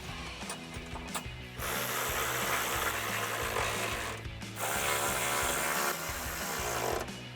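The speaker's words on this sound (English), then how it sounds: "tighten them down with an 11mm socket and a ratchet" An 11mm socket on a hand ratchet tightens two nuts onto studs while fitting Rock-Slide Engineering rock rails to a Jeep Gladiator JT, giving close, loud runs of rapid pawl clicking in two bursts with a brief pause between.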